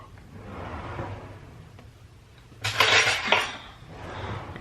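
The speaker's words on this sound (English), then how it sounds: "Let me get a little knife." A small kitchen knife is fetched from a drawer, with a brief clatter of cutlery and metal utensils midway after a quiet stretch of soft handling noise, close by and no talking.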